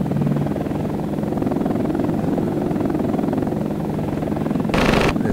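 The rotor of a Mi-24 Hind in a helicopter flight simulator game drones steadily and evenly, with a short sharp burst of noise near the end.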